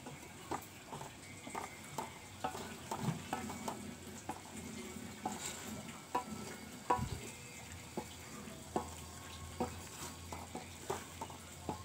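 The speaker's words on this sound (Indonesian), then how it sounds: "Kita masak lagi sampai benar-benar mendidih." Glutinous rice wajik mixture boiling in a pot and stirred with a utensil, giving a soft bubbling sizzle under repeated scraping and tapping strokes at a steady rhythm, close and without talk.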